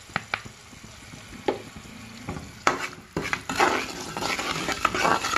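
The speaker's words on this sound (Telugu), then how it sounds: "పోపు అనేది వేగాలి, కరివేపాకు కూడా వేసుకోవాలి." Curry leaves and turmeric crackle and sizzle in hot oil as a tempering for tomato pickle, with a spoon scraping and stirring the pan in irregular close knocks while the frying hiss builds steadily louder.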